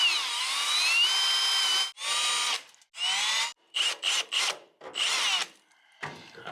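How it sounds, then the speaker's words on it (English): Power drill spinning a uni step bit to cut holes in a 2021/2022 Ford Bronco: a long high whine at first, then several shorter bursts with gaps between them, close and loud. "I'm going to be using this uni bit here to make the holes."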